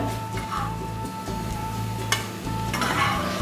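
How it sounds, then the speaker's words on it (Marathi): Cabbage vadi shallow-frying until golden brown, a steady close sizzle of oil running throughout with a few light clinks of a utensil against the pan. "आणि अशाच प्रकारे गोल्डन ब्राऊन कलर येऊपर्यंत तळून घेणार आहे"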